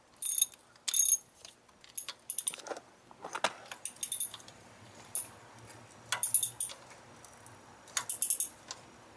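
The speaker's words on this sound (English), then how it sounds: "Just hand tighten that on and then use the wrench. 14mm socket. Tighten this up a little bit on the top" A ratchet wrench fitted with a 14mm socket clicks in short bursts while tightening a starter motor bolt on a 1994-1997 Honda Accord EX, the metallic ratcheting close and fairly quiet with brief pauses between strokes.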